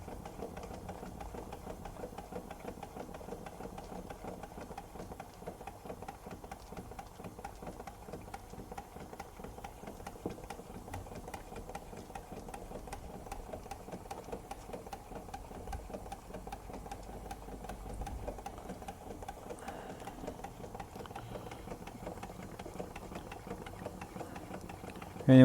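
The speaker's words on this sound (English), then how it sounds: "it's quite a nice little hybrid boiler steam engine combination that actually works quite well" A Stuart Turner S50 steam engine runs on a hybrid boiler steam plant with a steady, continuous mechanical chuffing and light rattle that holds an even pace throughout.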